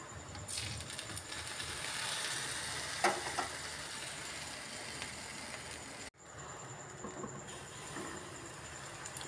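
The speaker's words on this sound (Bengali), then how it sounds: "এইভাবে আস্তে আস্তে আমি সব পান্তুয়াগুলো ভেজে নেব" Sweet potato pantua sweets fry slowly in hot oil, giving a continuous soft sizzle with occasional brief stirring sounds and a short break partway through.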